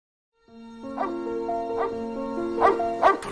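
A dog barks four times in short, evenly spaced, fairly close barks over a sustained musical tone, with no voices.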